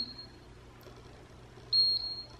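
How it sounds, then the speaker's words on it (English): A loud electronic beep from an Irresistible Me Moonstone automatic steam curler, a short tone followed by a longer sustained one, standing out clearly over a quiet room background. "The beep is loud, but it doesn't bother me."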